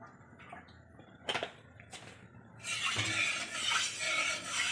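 Mustard oil hitting a hot pan for a Bengali dried fish dish gives a steady, close broadband sizzle that starts midway and keeps going, after a few sharp clinks of utensils.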